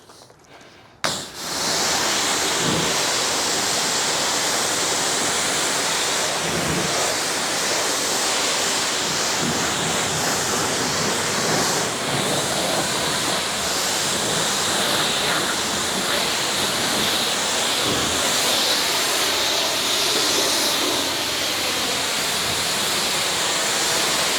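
A garden hose sprays water in a steady, loud, unbroken rush across a ceramic coated Porsche 964 during a wash, starting abruptly after a brief quiet moment and continuing evenly with faint shifts in intensity.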